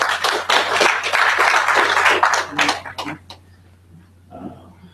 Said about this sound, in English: Can we have a round of applause again?